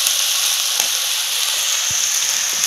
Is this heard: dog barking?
no